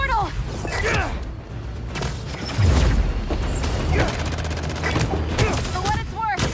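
Gunfire rattles through combat in Marvel's Spider-Man 2: loud, dense volleys of shots and booms run throughout, mixed with sweeping game effects.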